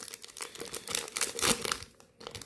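A Disney Lorcana trading card pack's foil wrapper crinkles and crackles in close, irregular bursts as it is torn open and handled.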